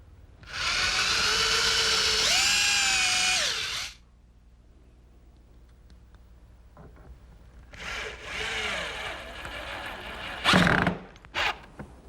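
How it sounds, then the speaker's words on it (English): A power drill whines loudly for a few seconds while drilling through the wooden end and foot of a marble roll, pauses, then bores again with rising and falling pitch, followed by short bursts of grinding. "The last hole that I have to drill is through the end and the foot."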